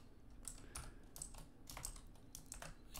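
Someone types code on a computer keyboard, with close, quick clicking keystrokes in uneven bursts over a faint steady hum, no voices.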